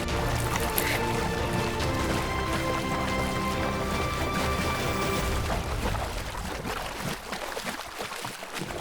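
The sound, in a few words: lion pride stepping into and crossing a river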